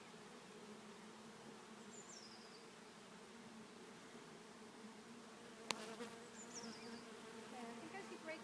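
Honey bees drone steadily inside an opened hive during an inspection, a low continuous buzz with a sharp click midway and faint higher whines of individual bees passing close.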